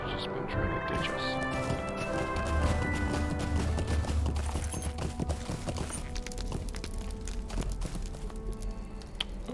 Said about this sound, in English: there's a horse here now